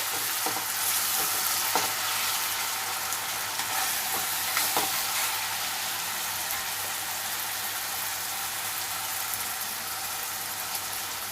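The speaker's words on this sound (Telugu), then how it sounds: "ఇలా మనం వేయించుకోవాలి ఫ్రెండ్స్." Spices frying and being stirred for a spicy chicken curry, a steady loud sizzle running throughout with occasional faint scrapes of the spoon underneath.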